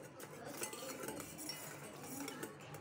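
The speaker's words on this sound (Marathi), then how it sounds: "2 ते 5 मिनटं फक्त आपल्याला मिक्स करायचं आहे." A spoon stirs sugar into cold coffee, clinking and scraping against the cup in a quick, continuous rhythm, close and fairly quiet.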